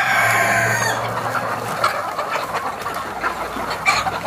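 Hens cluck and a rooster crows in a poultry henhouse, a loud crow at the start followed by scattered clucking and squawks over steady barn noise.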